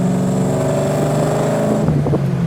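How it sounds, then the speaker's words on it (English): A Hyundai Genesis Coupe with a nearly new transmission drives along, its engine holding a steady close drone, and a short clanky knock from the gearbox comes near the end. "And obviously we still got some clanky shifting."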